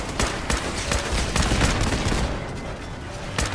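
Enemy gunfire in Fallout 4 crackles in rapid bursts of repeated shots, loud and close, with a brief quieter lull before one final shot.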